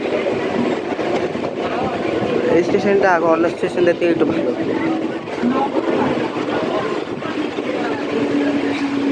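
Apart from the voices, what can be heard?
local train entering Nabagarayangarh station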